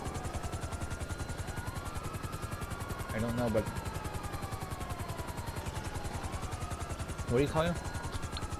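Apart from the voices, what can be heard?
helicopter in GTA Online video game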